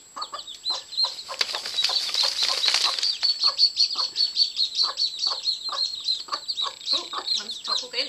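A hen with day-old chicks dust bathing in sand: rapid flapping and scratching in a burst, then soft rhythmic clucks and cheeping repeating close by, with a voice talking faintly at times.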